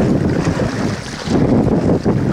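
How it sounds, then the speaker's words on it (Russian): Strong wind blowing over open water during a fishing trip in a FishKayak EVO kayak, a loud continuous roar with wind buffeting the microphone and faint wave wash, steady throughout with no voices. "О, как ветерочек задул"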